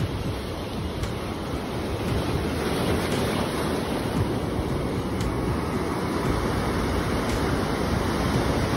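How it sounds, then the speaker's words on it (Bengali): Sea waves roar continuously on Shankarpur beach near Digha, a loud, dense wash of surf with constant wind buffeting the microphone and no speech. "সমুদ্রের গর্জন শুধু ফিল করো।"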